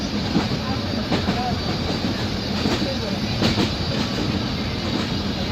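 A train rolls slowly through a dark marsh, its carriages giving a loud, steady rumble with faint rhythmic clacks, while a voice can be heard under the noise.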